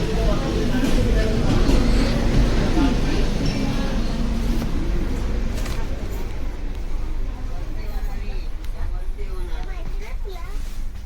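An AC passenger train on the Mumbai to Chiplun railway route rumbles and rattles continuously, loud at first and easing slightly, with someone talking over the running noise.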